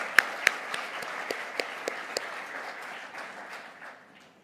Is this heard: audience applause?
yes